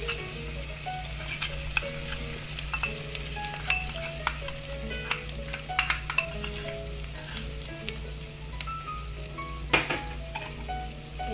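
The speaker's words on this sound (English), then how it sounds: "Then now I am going to put the grinded ingredients, the roasted ones." Roasted ground spice paste fries in a pan for a Hyderabadi green pepper curry, sizzling steadily up close while a utensil clinks and stirs against the pan in irregular taps.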